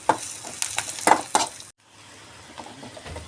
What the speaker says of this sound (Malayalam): അപ്പോൾ ഉള്ളിയും കരിയാപ്പിലയും നല്ല വങ്ങിൽ ഒരു പൊരിഞ്ഞ് വരുന്നുണ്ട്.